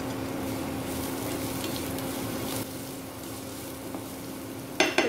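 Shredded cabbage stir-frying in a hot pan with garlic for chicken fried rice, a steady loud sizzle with a faint scrape of stirring near the end.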